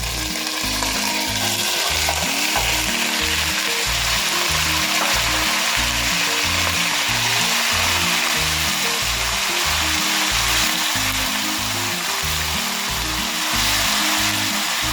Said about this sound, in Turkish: 1 kilo kuzu kuşbaşımı tencereme boşaltıyorum.